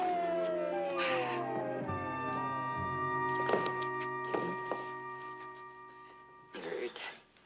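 An ambulance siren sounds in a dramatized scene, a steady wailing tone running under thuds, footsteps and background movement, with a few louder bumps near the end.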